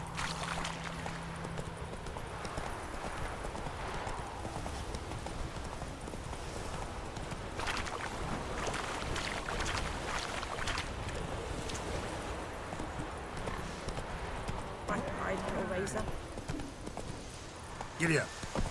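Roach the horse's hooves clip-clopping in The Witcher 3, a rapid galloping patter under steady wind and game ambience, with someone talking over it.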